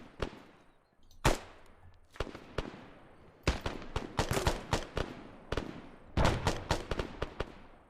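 Gunfire rings out in the video game ArmA, a volley of sharp cracks and reports in uneven bursts, some single shots and some rapid clusters, with echoing tails, loud and close.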